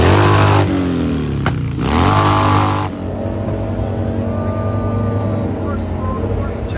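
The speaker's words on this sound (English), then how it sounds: "I think this guy's saying, film me revving it up." A custom motorcycle engine is revved hard at close range, with loud, deep, throaty bursts, a brief drop between them, then a rumbling idle. Voices and crowd chatter run underneath.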